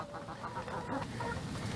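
Backyard chickens, including laying hens, clucking and squawking close by in a warm coop, a continuous busy chatter of several birds over steady low background noise.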